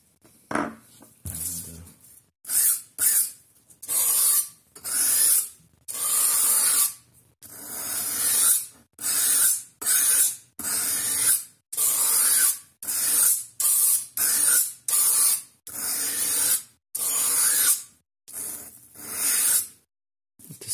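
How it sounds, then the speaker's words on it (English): A thin knife blade made from clock parts is drawn over sandpaper in about twenty even, rasping strokes. Each stroke is a close, loud hiss with short silent gaps between them. "still is quite thin and it's easy to sharpen on the sandpaper."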